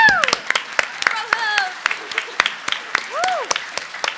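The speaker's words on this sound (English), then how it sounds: "Keep clapping." An audience at a panel claps in scattered, uneven bursts, with sharp individual claps close by while voices talk over them.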